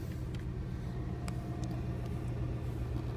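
The engine of a Buick Roadmaster wagon idles quietly, a steady low rumble heard up close with faint ticks above it and no talking.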